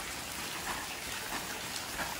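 Steady rain falls in an even, hissing wash with scattered drops, continuous and fairly soft, with no voices.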